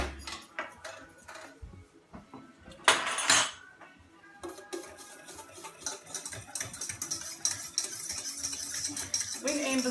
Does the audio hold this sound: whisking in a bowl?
yes